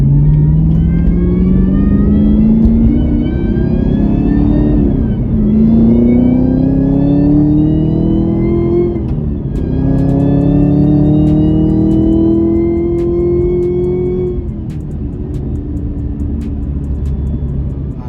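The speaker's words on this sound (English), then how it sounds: "I love the blower whine." A Camaro ZL1 1LE's supercharged LT4 V8 revs loudly and repeatedly in rising sweeps, a high blower whine climbing with each pull, strong and close with no talking.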